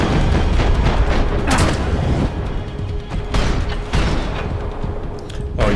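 Gunfire erupts in Max Payne 3 inside a police station, with loud booming shots and bursts in several clusters, heavy and close, with no talking.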